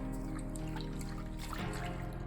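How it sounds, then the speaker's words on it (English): A hand swishes through a container of soapy water, a faint steady sloshing and trickling close up, with no talk. "So I'm just going to use my hand to mix it up"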